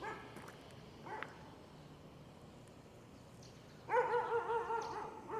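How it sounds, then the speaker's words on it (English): Dogs in an earthquake-hit area of Hualien, Taiwan, bark a few times at a distance, a short early yelp followed later by a cluster of louder, repeated barks over steady background noise. "Hope these dogs aren't territorial."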